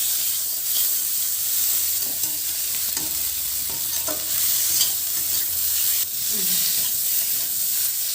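Potatoes and spices stir-fried in a pan for a thin village-style shol fish curry, giving a steady sizzling hiss with scraping stirs throughout, close and continuous with no talking.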